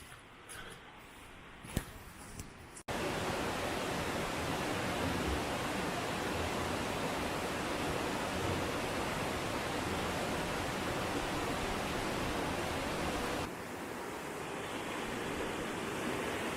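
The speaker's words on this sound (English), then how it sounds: "water's running very quick" Fast-running river water rushing past on a November walk, a loud, steady broadband roar that stays close and continuous after a quieter opening few seconds, with no voices.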